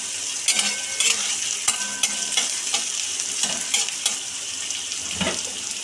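Onion and coconut frying in a pan while being stirred, made for a vegetarian taro-leaf (kochu shaak) dish: a steady close sizzle with repeated scraping strokes of the spatula, no talk.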